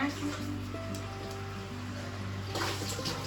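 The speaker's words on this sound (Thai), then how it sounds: "ตอนนี้พี่นัทเอาน้ำใหม่ใส่เข้าไปแล้วนะ" Fresh water pours steadily into a fish tank, a continuous watery wash over a steady low mechanical hum, with faint voices in the background.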